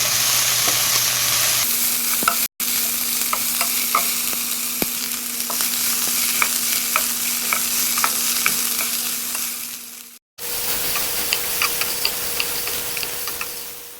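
Capsicum sizzles steadily in a hot pan while it is sautéed for capsicum chicken, with light ticking scrapes of stirring throughout and two brief cuts in the sound.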